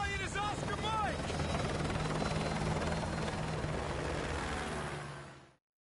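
Helicopter in a Modern Warfare 2 game, a loud, steady rotor drone filling the scene, with brief voice fragments early on before the sound cuts off abruptly near the end.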